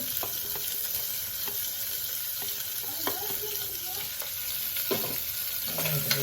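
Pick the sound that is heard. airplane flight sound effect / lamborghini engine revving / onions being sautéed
onions being sautéed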